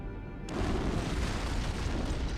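An antimatter charge going off aboard a ship in Halo: Combat Evolved, a sudden deep boom that swells into a sustained, loud rumbling roar filling the space.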